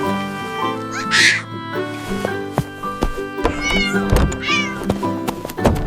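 A cartoon cat lets out several bright, wavering meows over lively background music and effects, up close and loud, mixed with playful cartoon noises and no clear talking.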